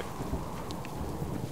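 Rain falls in the survival video game Subsistence, a soft, continuous patter with a low rumbling undertone and a few faint drips, quiet and unbroken by speech.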